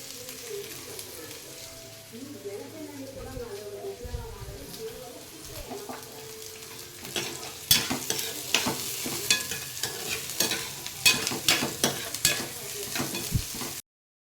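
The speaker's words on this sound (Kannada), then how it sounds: "ಈ ಥರ ಚೆನ್ನಾಗಿ ಫ್ರೈ ಮಾಡ್ಕೊಬೇಕು." Stir-frying in a pan for egg rice, with onion and tomato cooking in oil: a steady sizzle under repeated scraping and stirring strokes that grow louder and busier toward the end, with faint background voices early on.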